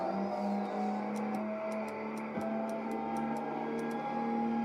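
A race car laps the Minami circuit in Assetto Corsa, its engine droning steadily with a sweeping pitch change midway, while evenly spaced ticks repeat over the top, moderately loud throughout.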